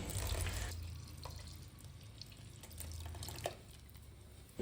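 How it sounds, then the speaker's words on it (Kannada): Water is poured into frying masala gravy in a pan while cooking traditional Tulunadu pathrode: a faint, steady hiss of pouring liquid with soft splashes, close by and with no one talking. "ಸ್ವಲ್ಪ ಮಸಾಲ ಫ್ರೈ ಆದಾಗ ಇದಕ್ಕೆ ನೀರು ಹಾಕ್ತೀನಿ"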